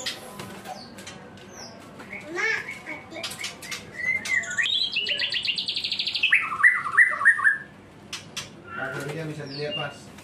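A white-rumped shama (murai batu) sings close by in a varied burst of chirps, whistles and rapid trills at moderate loudness, with faint background noise and some quieter calls before and after.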